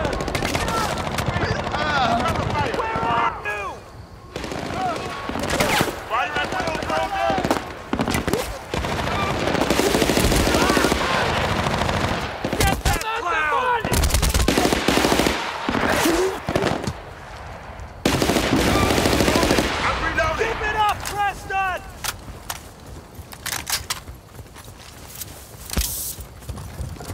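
Gunfire in the video game Battlefield Bad Company: sustained bursts of rapid machine-gun fire and single shots crackle almost continuously, loud and close, with brief pauses and faint distant shots between volleys.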